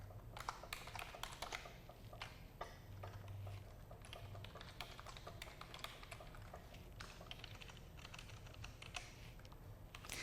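Rapid, steady clicking of a computer keyboard being typed on during a basic computing lesson, close and continuous for about ten seconds, with no talking.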